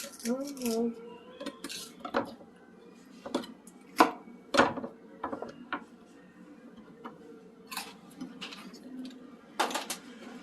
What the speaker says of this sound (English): See how the tip of my knife's on the cutting board? It's just sliding like ever so slightly like that.